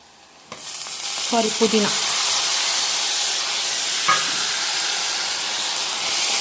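Onion, tomato, green chilli and mint frying in a hot pan give a steady, loud sizzle with hissing steam throughout, broken by a few clinks of stirring near the start and one more midway; no one speaks.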